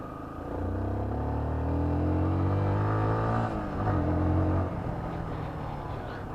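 A Yamaha Xabre 150cc motorcycle on a test ride accelerates with a close engine drone that climbs in pitch, drops at a gear change, then climbs again before easing off.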